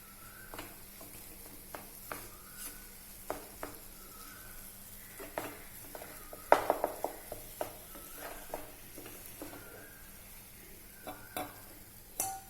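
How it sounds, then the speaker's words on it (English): Mango semolina pudding stirred in a pan over a low flame, soft scraping strokes and occasional light spoon knocks against the metal, quiet and close, with a brief cluster of clinks midway. "Give it a stir."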